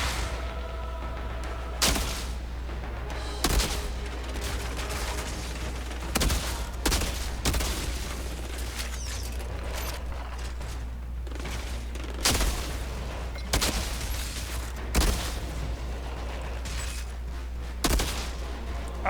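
Sharp gun reports from the shooter game Outriders, single loud shots spaced every couple of seconds over a steady low rumble of background noise.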